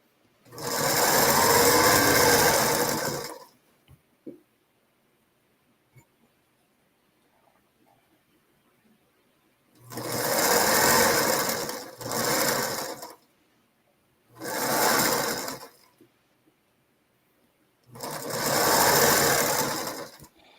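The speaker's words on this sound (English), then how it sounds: "I sew 2 or 3 inches and line them up" A sewing machine stitches fabric in short runs of two or three inches, four or five loud bursts of rapid whirring separated by quiet pauses.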